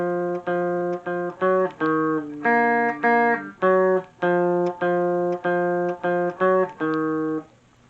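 Guitar plays the second part of Linkin Park's "In The End", a steady repeating pattern of sustained single notes and short phrases, clean and close, alone without talk, ending in a brief fade.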